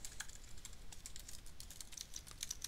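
Computer keyboard typing, a steady run of light close key clicks with a few sharper taps, heard alone and quietly while text is entered in a design program.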